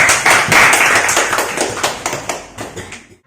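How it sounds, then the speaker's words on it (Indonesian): A classroom audience claps for a student group that has just finished presenting, a brief burst of many hands that starts strong and thins out over about three seconds. "Berikan aplaus untuk kelompok 1."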